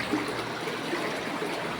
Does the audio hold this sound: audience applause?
no